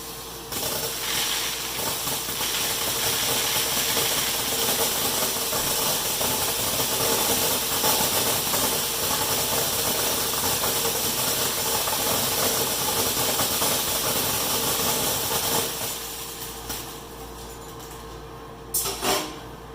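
A sunflower seed color sorter reclaiming sunflower meats runs steadily with a loud, constant mechanical hiss and hum, then winds down toward the end with a brief clatter as it cleans its optical eyes.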